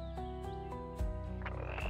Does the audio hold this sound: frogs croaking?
yes